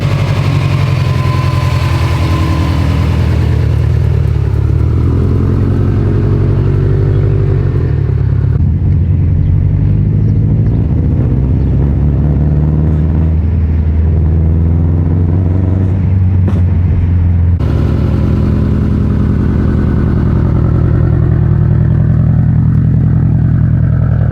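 A built Subaru STI driving, its engine a loud, continuous low drone that rises and falls with shifts in load, heard close from inside the car throughout with no talk.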